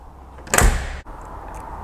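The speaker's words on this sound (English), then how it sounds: "every time I close it or open it, it sounds very American. There's this strong metallic sound, and the door is rather heavy." The heavy frameless door of a 1958 Cadillac de Ville shuts with one solid metallic thud, a brief loud slam that cuts off sharply into a quiet interior hum.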